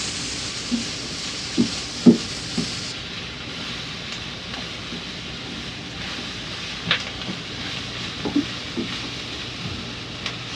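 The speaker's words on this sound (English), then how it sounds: "after about 3 minutes of stir frying or sauteing these bell peppers and onions and garlic and ginger" Bell peppers, onions, garlic and ginger stir-fry in a pan, a continuous soft sizzle punctuated by scattered scraping clinks of a utensil against the pan, heard up close without talk.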